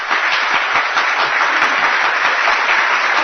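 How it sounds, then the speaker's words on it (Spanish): Dense applause fills the whole span, a steady wash of many hands clapping at close range, loud and even with no voices over it. "Aplausos, perfecto."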